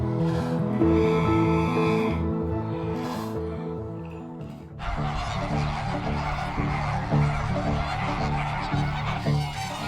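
A large flock of flamingos in the Camargue, France, honks and calls continuously at a breeding site, a dense overlapping chorus that grows fuller and louder partway through.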